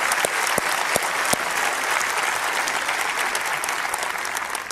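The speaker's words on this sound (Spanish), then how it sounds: "nos encantaría darle un buen aplauso de bienvenida" A church congregation gives a loud, sustained round of welcoming applause for first-time visitors, dense clapping from a large crowd throughout with a few sharper claps near the start.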